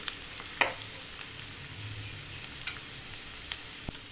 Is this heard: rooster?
no